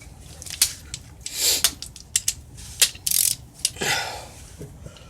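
A torque wrench tightening clutch cover bolts on a 2013 Kawasaki ZX10R, sharp ratcheting clicks in short bursts with a few isolated snaps, close and loud, with no talking.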